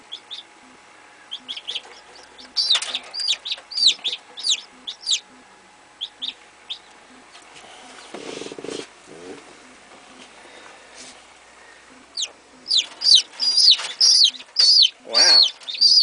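A chicken peeping and clucking in short, high chirps, repeated in quick bursts, loud and close, with a quieter stretch in the middle.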